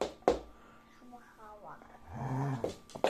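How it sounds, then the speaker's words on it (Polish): A dog gives low growls and grumbles indoors at close range, with a sharp noise at the start and someone talking over it. "Nie burczymy, piesku."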